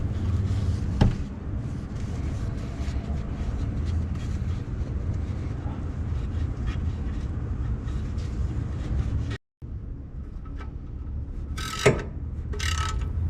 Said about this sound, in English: So first I use the regular wrench to tighten the plug